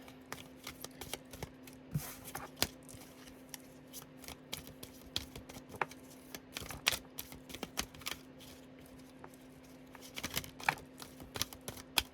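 Tarot cards shuffled by hand for a full moon reading, a steady run of soft papery riffles and taps with sharper slaps scattered throughout, close and fairly quiet with no voices.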